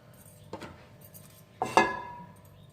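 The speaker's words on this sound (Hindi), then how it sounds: "ये मैंने पैन रख दिया ऊपर।" A metal pan is set down on a stove with two distinct clanks, a lighter knock followed a second later by a louder ringing clatter that fades away in a quiet kitchen.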